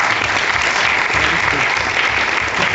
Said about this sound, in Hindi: तो सर के लिए एक बार और तालियां।